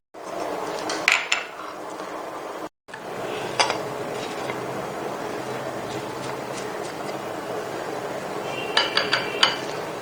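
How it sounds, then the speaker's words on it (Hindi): A spoon clinks and scrapes against a bowl while spices are stirred into half a kilo of yogurt for tawa chicken, a steady clatter with a few sharper metallic taps and a brief dropout. "आधा किलो दही में हम मिक्सिंग करते हैं"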